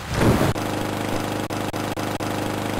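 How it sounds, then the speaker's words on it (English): Lawnmower engine in the video game Lawn Purge, a continuous droning, buzzing motor drone at steady volume with brief periodic dips and cuts, heard alone without music. "I'm really glad there's no music, otherwise I wouldn't be able to hear this sweet lawnmower noise"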